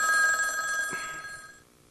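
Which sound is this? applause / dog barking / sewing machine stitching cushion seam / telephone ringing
telephone ringing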